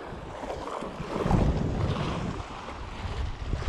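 River waves on the Siret slap and wash against a boat amid gusty wind buffeting the microphone, a continuous rough rumble that swells in the middle, with no talking.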